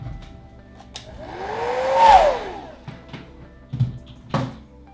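A handheld hair dryer blowing over wet watercolor paint on paper, whirring up to a loud whine and winding down again, with light knocks and handling sounds around it.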